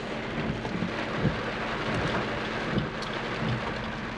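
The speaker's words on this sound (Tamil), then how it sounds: "மழை வேறு அடிச்சு கிடக்கு சதன்னு" Heavy rain pours down steadily in the misty hills of Vagamon, a close, dense wash of drops with a few low rumbles and thuds beneath it and no voices.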